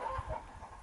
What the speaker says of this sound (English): Now the chickens are talking loudly. Maybe you can hear.